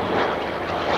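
A propeller airplane with a 2,800-horsepower engine and a 16-foot propeller, heard at an air show as a loud, steady engine roar for a brief moment, with no talking.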